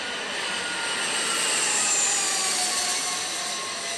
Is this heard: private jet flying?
yes